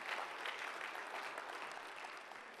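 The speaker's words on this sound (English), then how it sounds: "somebody give a little clap offering of praise to our God" Church congregation clapping together during a Sunday service, a dense, even wash of applause from many hands that carries steadily throughout without a break.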